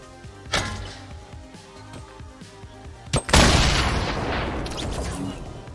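A Fortnite homing missile fires with a sharp crack, then a second loud blast sets off a big roaring explosion that rumbles and slowly fades, over quiet rhythmic game music.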